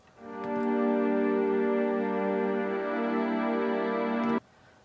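Cellos in a layered arrangement sound a sustained bowed chord that swells in, holds steady for about four seconds and then cuts off.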